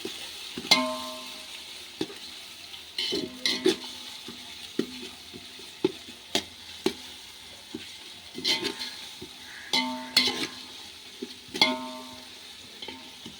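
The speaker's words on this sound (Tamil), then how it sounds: "இப்போ இஞ்சி பூண்டு பேஸ்ட்டு மிக்ஸ் பண்ணி போடணும். இப்போ நல்லா மிக்ஸ் பண்ணணும்." Ginger garlic paste frying in a pan for seeraga samba biryani, with a steady sizzle under repeated bursts of spoon-on-pan stirring and scraping, close and moderately loud, with no talking.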